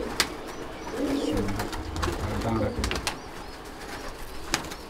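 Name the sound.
pigeons cooing, female pigeon being shown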